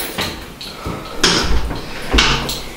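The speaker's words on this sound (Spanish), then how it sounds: "Vamos a cerrar aquí la puerta." A door being pushed shut indoors, a few close thumps and rattles of the door and its frame, loud and fairly near, with no voices over it.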